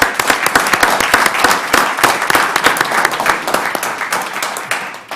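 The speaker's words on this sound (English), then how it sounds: "So just a round of applause for..." A room at a county commissioners court meeting breaks into loud, close applause for a veterans organization's president-elect, with sharp individual claps standing out in a brisk, continuous patter for several seconds.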